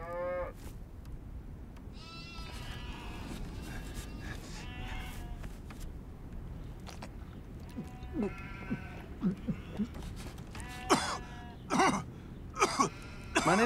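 Sheep bleat again and again, close by, in wavering calls that come louder and quicker toward the end, with faint voices now and then.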